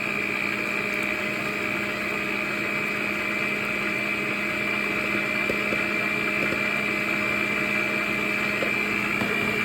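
An electric mixer whirs with a steady, even drone as it beats donut batter with milk. The sound is close and constant, with no talk.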